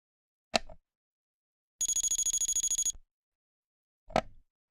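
A Med-E-Lert automatic pill dispenser plays its alarm tones: a short click, then a loud, fast, evenly pulsed electronic beeping that lasts about a second, then another click, with clean silence between.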